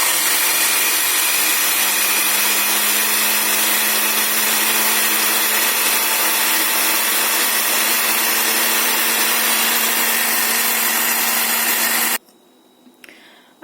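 A Geepas 2-in-1 blender grinds chutney, its motor roaring loudly and steadily for about twelve seconds before cutting off abruptly, leaving a quiet room with faint clatter.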